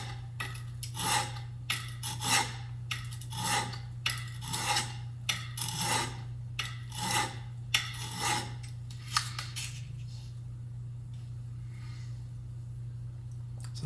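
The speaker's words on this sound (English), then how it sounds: "make several passes, pulling the chisel toward me" A chisel scrapes across the coarse side of a sharpening stone in about a dozen steady, rhythmic passes, close and clear over a constant low hum, then stops.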